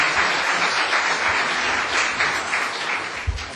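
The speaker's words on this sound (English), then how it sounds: "Can I have another round of applause for him?" A conference audience at a mobility session breaks into loud, dense applause for a speaker, a full wash of many hands clapping close and sustained, fading slightly near the end.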